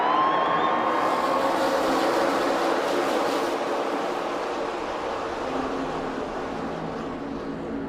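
A pack of NASCAR stock cars running four wide at the start of the 2012 Aaron's 499 makes a loud, continuous, dense engine roar that holds steady and eases off slightly near the end.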